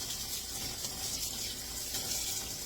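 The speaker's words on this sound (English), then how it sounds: "let me wash my hands" Water runs steadily from a kitchen tap into a sink during hand washing, a continuous close hiss and splash with no talking over it.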